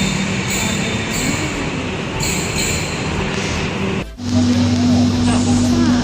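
Steady rumble and rolling hum inside a Palembang LRT light rail car in motion, with a sustained tonal whine from the drive and a brief dip before the tone shifts, people audible in the carriage.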